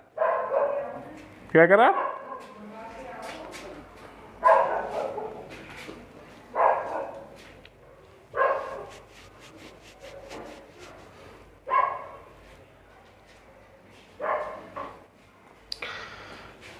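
Dogs barking repeatedly at a distance in an Indian setting, a loud bark burst followed by a steady series of spaced barks every couple of seconds, while someone speaks Hindi in between.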